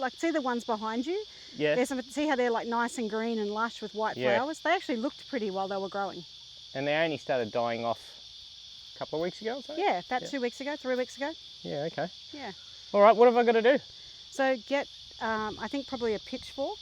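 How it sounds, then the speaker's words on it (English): A steady, dense chorus of cicadas drones continuously in the background of an Australian vegetable garden, persisting under a conversation between people talking throughout. "Now you'll probably hear the chorus of cicadas in the background."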